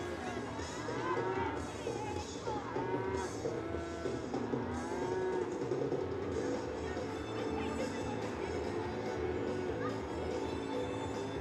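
Cattle mooing repeatedly during team sorting at a West Texas ranch rodeo, drawn-out lowing calls rising and falling over a steady background murmur, with voices talking at times.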